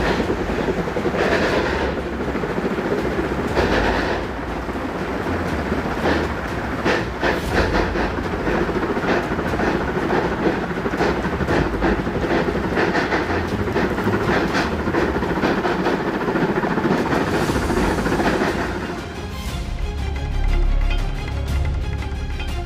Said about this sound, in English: The steam-powered snowplow, originally built for the scenic Rhaetian Railway in Switzerland in 1913